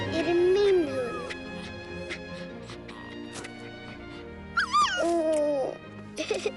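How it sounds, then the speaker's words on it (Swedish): A dog whimpers in high, wavering whines, then yips and lets out a short burst of whimpering barks, close and clear over background music and talking. "Är det min hund?"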